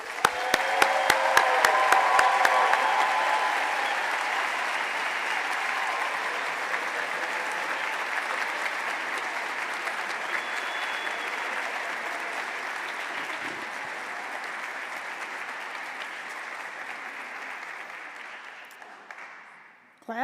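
Sustained applause from a seated audience at a physical therapy white coat ceremony, loud and steady at first, then gradually fading out over about twenty seconds.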